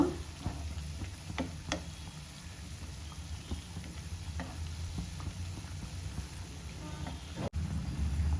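Jackfruit vadas made with coarse rice frying slowly in a pan of hot oil, a steady low sizzle with occasional crackles and the tick of a utensil, heard alone without talk.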